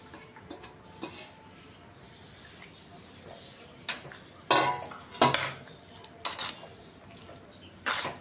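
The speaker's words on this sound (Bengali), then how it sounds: "সবজিগুলোকে দিয়ে আমরা ভালো করে কষিয়ে নেব।" A spatula scrapes and clinks against a pan as mixed vegetables are stirred and sautéed, giving scattered sharp metallic knocks over a quiet, low frying hiss.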